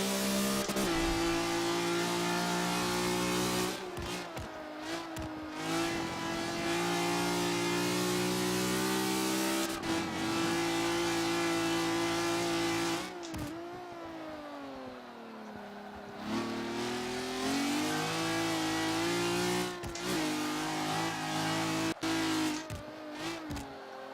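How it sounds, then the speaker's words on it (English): A car engine revs hard and repeatedly, pitch climbing and dropping through gear changes, with brief gaps between bursts; loud and close, no talking. "Really does sound good. That's a really good sounding car."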